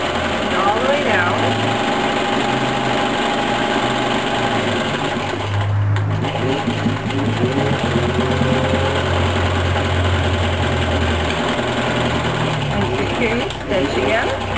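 A sewing machine stitches the fabric of a bread and snack bag, running steadily close up and breaking off briefly around the middle while the stitch is reversed back and forth.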